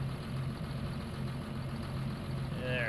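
An old tractor engine idles steadily while warming up in the Farming Simulator 19 video game, a low, even mechanical drone that holds at a moderate level throughout, with a faint higher tonal sweep near the end.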